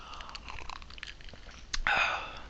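Someone chews salty popcorn close by, with irregular crunchy bites and a louder crunch near the end, no talking.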